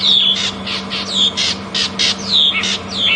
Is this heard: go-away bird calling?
yes